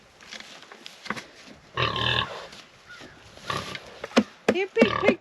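Pigs on a farm grunt and oink in several bursts at feeding time, a close, loud cluster in the middle and a quick series near the end, with a person calling to them in between.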